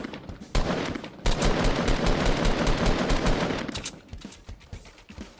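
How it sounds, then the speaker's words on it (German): Rapid automatic gunfire in Fortnite Battle Royale, loud and close: a short burst, a brief pause, then a long sustained stream of shots that tapers into scattered single cracks. "Ich schieße rein wie blöd."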